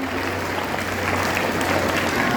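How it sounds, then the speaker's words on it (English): Steady, sustained applause from an audience at a farewell celebration for a senior manager, dense even clapping honoring performers, filling the whole stretch. "A big round of applause for our performers who beautifully brought this message to life."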